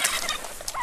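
Broad-breasted meat chickens bred for large breasts, making a quick run of gobbling, clucking calls at close range, loud and alone with no speech.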